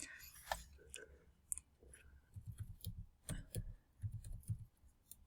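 Light, faint clicking of keys on a computer keyboard, a scattered run of soft taps and ticks with small pauses, quiet and close.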